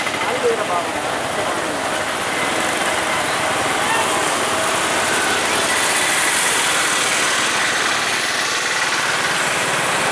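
A motorcycle carrying two riders runs at a steady pace, its engine a constant loud drone mixed with rushing wind noise throughout.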